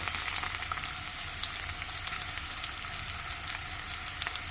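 Cumin seeds, chopped onions and curry leaves fry in hot oil in a pan, giving a steady, dense sizzle and crackle that runs unbroken and fairly loud, close up, with no voices over it.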